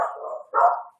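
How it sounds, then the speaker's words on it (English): Two bursts of dog barking, a longer one then a shorter, louder one, close by and with no talk over them. "my dogs are barking, sorry"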